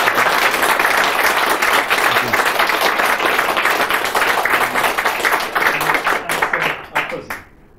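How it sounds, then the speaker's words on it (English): An audience at a talk on astronaut training and human spaceflight gives a quick round of applause, loud dense clapping that carries on steadily for several seconds before thinning out and stopping. "a quick round of applause if we may"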